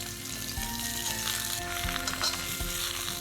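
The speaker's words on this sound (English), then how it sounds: "Just a dash of water when you're stir frying can help kind of steam and cook things really quickly" Chinese broccoli stir-fries in a hot wok with sesame oil and a dash of water, a loud continuous sizzle with scraping stirring sounds and brief humming tones, no voices.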